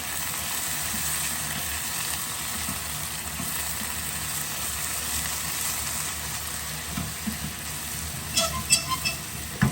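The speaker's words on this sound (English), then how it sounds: "let that simmer away there for about 7 minutes" Red rice pilaf with smoked paprika, lemon zest and dried tarragon simmers in a pan, giving a steady soft sizzling bubble throughout, with a few sharper clinks and pops near the end.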